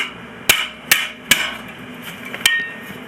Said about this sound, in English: I'm just going to use a raw hammer here and a piece of scrap.